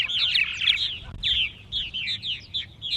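Purple martins singing their dawn song: a continuous run of bright warbling chirps and gurgles from several birds, fairly close, over low background noise.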